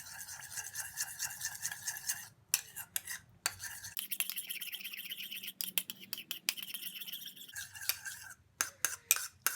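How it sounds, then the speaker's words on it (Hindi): Rose water being mixed into a small batch of ingredients with a spoon in a bowl, giving close, repeated scraping and clinking strokes in irregular bursts with brief pauses. "और इसमें बिल्कुल थोड़ा सा हम डालेंगे रोज वाटर, ½ टी स्पून, और इसे हम मिक्स करेंगे।"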